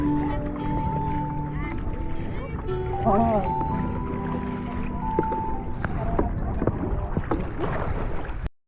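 A bangka boat moving steadily across water at El Nido, Palawan, engine and water rush constant and close, with people talking over it.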